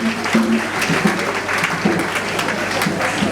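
A congregation at a funeral service applauding together, a loud, steady wash of close clapping with a faint tonal voice or hum underneath.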